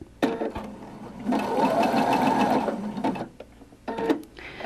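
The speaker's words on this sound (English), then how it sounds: "So here I'm doing the same thing, this bar tack with over the cord." A sewing machine stitches a bar tack over cord for an embellishment, a close, steady mechanical whir running for about two seconds, framed by shorter bursts of stitching before and after.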